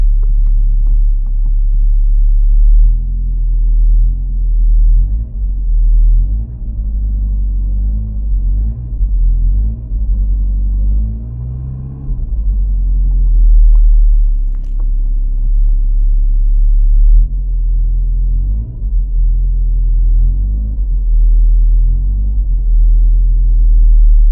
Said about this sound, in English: The fuel pump is working, obviously, because the car is running.